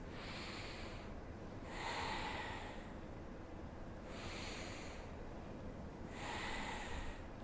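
Slow, deep breaths alternate in and out during a shoulder-roll exercise, soft and close, each airy inhale and exhale lasting a second or two against a faint hiss.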